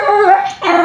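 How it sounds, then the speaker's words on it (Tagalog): A dog whimpers and yips loudly up close, a short high whining cry that breaks off briefly and then resumes, with no other sounds. "Ingay ng aso ko."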